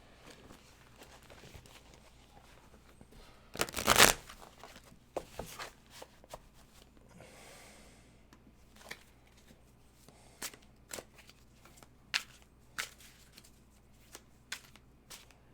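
Tarot cards are shuffled by hand at close range: one loud riffle burst, then scattered crisp snaps and taps as the deck is cut and handled in a quiet room.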